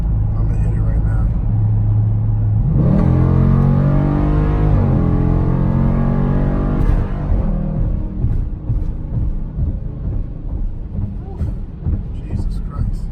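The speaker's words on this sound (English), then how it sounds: "And those transmission shifts are brutal." A Dodge Durango SRT accelerates hard, its loud exhaust roaring as the engine revs climb through gear shifts before easing off, with people talking in the cabin throughout.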